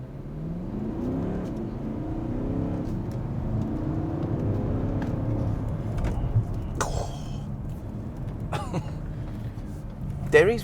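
A Porsche Cayenne S Diesel accelerating hard from a standstill, a muffled engine rising steadily in pitch through the gears as heard from inside the cabin, with brief clicks and whirs near the end.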